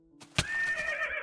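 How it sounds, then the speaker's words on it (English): A skeletal horse ridden by a zombie in Minecraft neighs once, a sharp onset followed by a loud, sustained whinny with a wavering tone, heard alone. "a skeletal horse being ridden by a zombie"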